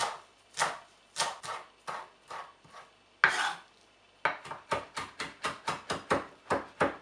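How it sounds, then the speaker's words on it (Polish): A knife chops eggplant into cubes along with fresh parsley and oregano, sounding as a rapid series of crisp, evenly spaced strikes on a board, with a short pause partway through before the rhythm picks up again. "Kroimy bakłażana w kostkę oraz naszą zieloną pietruszkę i oregano."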